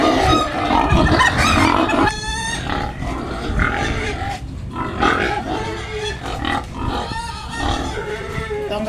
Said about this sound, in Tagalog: Yung ibang baboy natin, oh, naghihintay na rin ng pagkain nila.